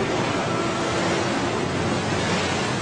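Sea waves wash in a steady, broad rush of surf, continuous and moderately loud with no voices present.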